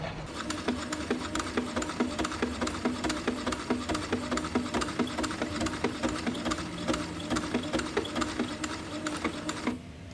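A domestic sewing machine runs steadily while stitching a buttonhole, a continuous rapid mechanical clatter of needle strokes held at an even pace, close and alone, ending abruptly.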